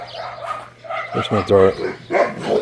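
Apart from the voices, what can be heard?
dogs barking at the neighbors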